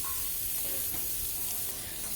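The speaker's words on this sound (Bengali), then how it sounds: "আলুগুলোকে আমি ভালো করে এটা ভেজে নেব" Potatoes frying in hot oil in a pan for a shrimp curry, a steady close-up sizzle with a hissing, crackling texture and no voices.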